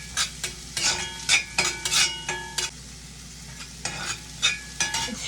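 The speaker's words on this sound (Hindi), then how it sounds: "फ्राइड राइस बनता है बहुत ही हाई फ्लेम पे, तो फटाफट वेजिटेबल थोड़े से कुक हो जाए तो हमें वेजिटेबल फटाफट डालना है।" Vegetables being stir-fried on a high flame for fried rice, with sharp metallic scrapes and clanks of a spatula against the pan in quick strokes over a background sizzle.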